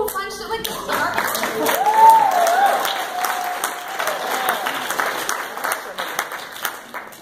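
An audience breaks into applause and cheering, swelling to a peak about two seconds in and then sustaining, with a voice heard over the start.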